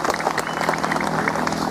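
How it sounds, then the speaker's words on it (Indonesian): Crowd at a village religious gathering in Karawang clapping for the village, a short, dense burst of steady applause. "tepuk tangan untuk Desa Cimungkal."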